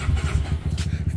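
A Ford Fiesta fitted with a Honda Twister motorcycle engine fires up for the first time, a close, choppy single-cylinder putter with rapid uneven pulses.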